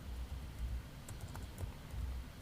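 Rapid, uneven typing on a computer keyboard at a desk while working in 3D modeling software, a steady patter of soft key clicks close by with no talking.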